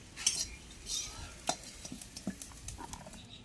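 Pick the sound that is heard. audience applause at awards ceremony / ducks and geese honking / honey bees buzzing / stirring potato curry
stirring potato curry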